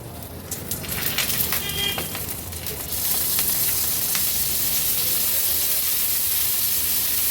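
Capsicum fries in a pan, a close, loud, steady sizzle and hiss that swells after a few seconds, with some scraping stirring early on.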